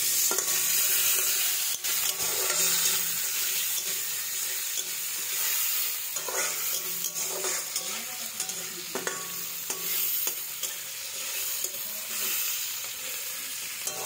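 Tomatoes sizzle and fry in a pan for chowmein while a spoon scrapes and stirs them in repeated strokes, a steady close crackle with no talking.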